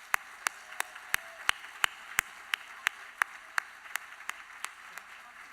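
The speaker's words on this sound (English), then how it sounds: "Please give me a warm applause." Applause for award honorees at a women's awards event, heard as a sparse, fairly faint run of separate claps at a steady rhythm, as if from only a few people.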